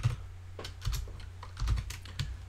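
Keys on a computer keyboard are tapped in an irregular run of soft, close clicks over a steady low hum, with no voices.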